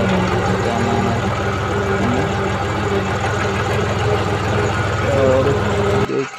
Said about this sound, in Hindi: हमारा ट्रैक्टर बहुत पुराना मॉडल है, वो HMT का है